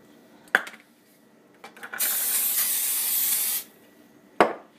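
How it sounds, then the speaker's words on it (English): A single sustained spray of PAM organic olive oil cooking spray hisses for about a second and a half, framed by a couple of sharp knocks of the can before and after. "First I add some PAM organic olive oil."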